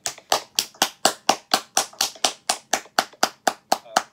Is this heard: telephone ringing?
no